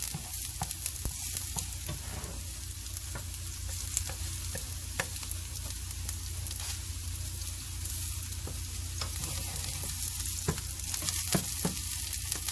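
Cauliflower rice with onions and garlic fries steadily in a pan, a continuous close sizzle with occasional stirring scrapes and no voices.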